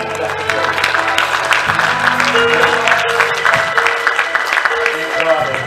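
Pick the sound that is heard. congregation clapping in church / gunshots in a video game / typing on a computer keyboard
congregation clapping in church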